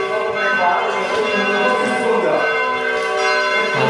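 A church bell in the tower of Hưng Nghĩa cathedral in Nam Định, rung by pulling two ropes, rings loudly and continuously, its overlapping metallic tones and long resonance filling the space.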